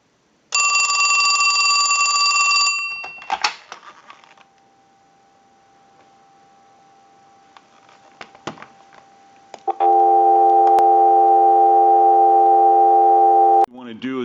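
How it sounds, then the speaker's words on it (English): A final ring from a Western Electric Trimline wall phone gives way to a few clicks and a faint tone, then a steady, loud dial tone from a line analyzer holds for about four seconds before cutting off. "we'll give you some dial tone"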